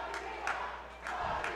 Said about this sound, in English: And the crowd's chanting her name.